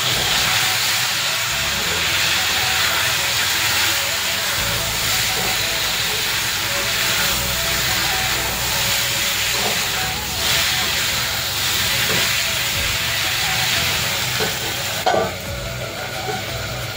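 Fish curry boiling in a pot, a steady bubbling hiss of steam running continuously at close range, with a brief louder clatter near the end.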